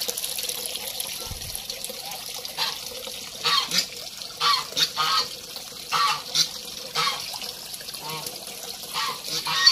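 Repeated short bursts of calling ducks, with splashing water running throughout, moderately close.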